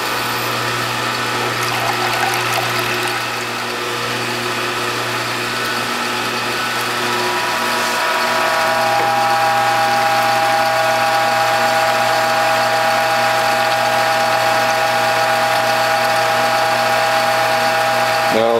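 A juice press grinds Swiss chard and beets from the garden through a five-blade cutter, giving a continuous mechanical whirring and ratcheting drone with steady tones, close and loud with no talking.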